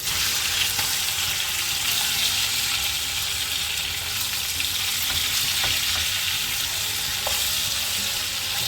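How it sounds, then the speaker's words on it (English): Steady, loud sizzling of meat frying in a hot pan, a continuous crackle with occasional sharper pops throughout. "We're just going to fry these pork chops about 4 minutes each side"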